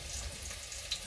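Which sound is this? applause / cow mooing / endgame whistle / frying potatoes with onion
frying potatoes with onion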